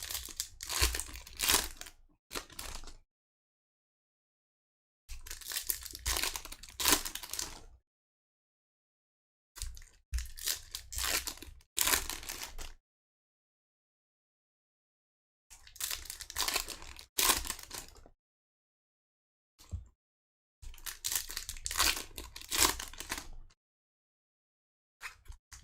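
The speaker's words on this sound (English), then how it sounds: "I'm just ripping the packs here because it's a lot of cards." 2022-23 Upper Deck Extended Series hockey card packs being ripped open up close, loud bursts of crinkling and tearing foil wrapper in separate clusters with silent gaps between them.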